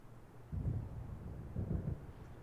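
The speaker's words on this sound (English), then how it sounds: "It seems there's a storm coming." Low rumbling thunder of an approaching storm in the Alan Wake video game, two deep rolling bursts over a quiet windy background, distant and muffled.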